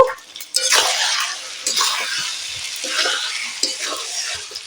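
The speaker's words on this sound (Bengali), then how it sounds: "মাংসটাকে আমি এইভাবে নাড়তে থাকবো" Chicken meat frying over medium heat with onion, garlic and salt is stirred in a pan, giving loud, close sizzling with scraping and stirring swishes in irregular bursts.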